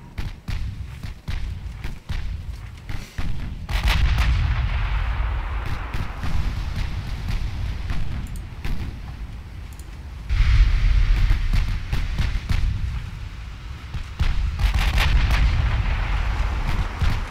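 Heavy naval gunfire and shell hits in the Ultimate Admiral Dreadnoughts warship battle game, with an Austro-Hungarian fleet against a Northampton heavy cruiser: repeated loud booming salvos and low rumbling impacts in long, rolling waves, with no talk.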